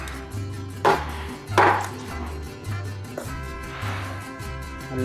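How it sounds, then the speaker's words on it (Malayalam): A knife chops a big fish into small pieces for frying, with close, regular cutting knocks and a few sharper, louder strikes against the board. "നമുക്ക് ചെറുതാക്കി പൊരിക്കാൻ പറ്റുന്ന കോലത്തിൽ നമുക്കിങ്ങനെ കട്ട് ചെയ്താം"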